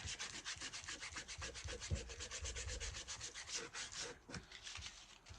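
Brisk back-and-forth sanding scratches over painted wood to distress it, a steady rhythmic rasp of repeated strokes up close, with no voices.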